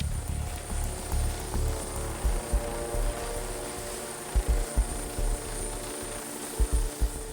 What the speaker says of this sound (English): Only then does the officer signal the pilot to turn off the engine.